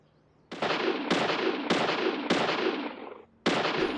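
Four sharp gunshots in quick succession, then a fifth after a short pause, fired at bushes in the video game Deadly Premonition, each a loud broadband crack with a brief decaying tail.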